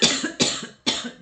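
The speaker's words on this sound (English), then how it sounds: "I'm coughing all over the place" Three sharp, harsh coughs in quick succession, close by, each a short burst followed by a brief pause.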